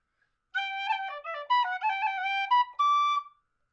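A bright tin whistle plays a short Celtic melodic phrase with quick ornamental flicks and grace notes, solo and clear, ending on a held note.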